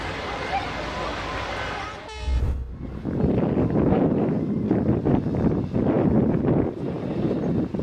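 An overcrowded train carrying passengers on its roof rumbles loudly and continuously, with a brief horn-like toot just before a steady roar of rolling wheels and crowd noise that fills most of the clip.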